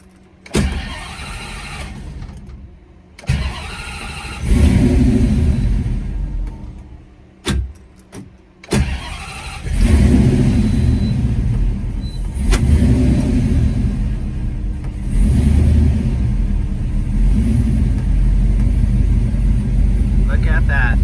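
A 5.7 Hemi swapped into a 1970 Challenger revs on a dyno during tuning, loud engine roars rising in repeated bursts separated by brief drops and idle gaps, close and dominant.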